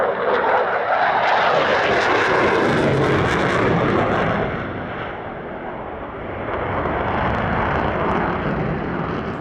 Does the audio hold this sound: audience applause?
no